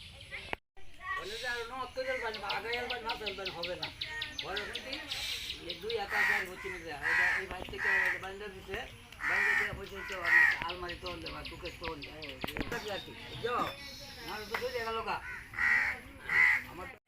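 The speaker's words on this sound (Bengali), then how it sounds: "প্রিয় দর্শক পাখির ডাক কিন্তু অনেক সুন্দর লাগে গ্রামে গঞ্জে" Village birds, mostly crows, caw again and again at a moderate distance, some calls near and loud. Someone talks almost all the way through, and the bird calls come up under and between his words.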